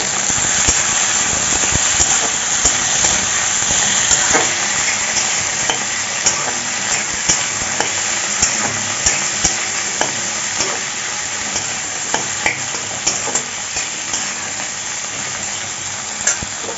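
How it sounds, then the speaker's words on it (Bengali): Chopped tomato and green chillies fry together for a dhaba-style chicken curry. A loud, continuous sizzle is punctuated by frequent sharp clicks and scrapes of a spatula stirring against the pan. "এবার টমেটো কুচিও দিয়ে দিচ্ছি তিনটে কাঁচা লঙ্কা দিয়ে দিচ্ছি দিয়ে সব কিছু ভালো করে ভেজে নেব"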